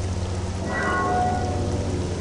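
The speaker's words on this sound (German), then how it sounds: "Arbeiten Sie sich bis zur Burg durch den sauren Regen vor." Acid rain falls steadily on Vjun in the Star Wars Jedi Academy video game, a loud continuous hiss of heavy rain with a brief tonal chime partway through.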